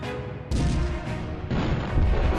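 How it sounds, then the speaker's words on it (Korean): Artillery cannon fire, a battle effect for the German bombardment at Verdun in 1916: heavy booms break in abruptly, one after another, and build into a dense, loud rumbling barrage with no voices. "독일군이 생각했던 비밀 무기는 대포였습니다."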